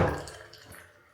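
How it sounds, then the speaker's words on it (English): Water dripping inside a toilet room, a few faint splashy drops and a brief watery burst at the start fading into quiet room tone. "Some water dripping in here."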